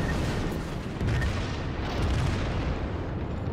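Heavy battleship cannon salvos in World of Warships, a Kongo-class ship firing, come across as a dense, continuous rumbling boom with deep low-end weight and a couple of swelling blasts, loud and close with no voices.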